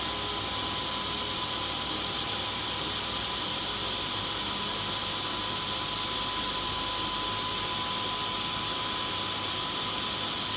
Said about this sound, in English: Running both spindles simultaneously. X2 is feeding in X1 and X2 towards the part.